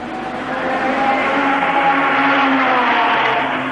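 Formula 1 car from the 1984 Monaco Grand Prix leading the race past on the street circuit, a steady loud engine roar held for several seconds with no speech over it.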